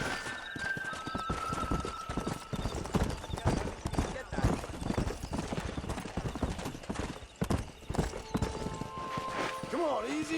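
Horse hooves gallop in a quick, steady clip-clop in the Western video game Red Dead Redemption, loud and close throughout, with occasional whinnies and other game sounds mixed in.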